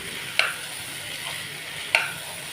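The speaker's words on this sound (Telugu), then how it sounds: "ఇవన్నీ ఇలా ఉప్పులకి మొత్తం నూనెలోనే వేపి మొత్తం మిక్సింగ్ చేసి" Spices for a curry fry in hot oil with a steady, soft sizzle, broken twice by sharp clinks of a utensil stirring the pan, close by with no talking.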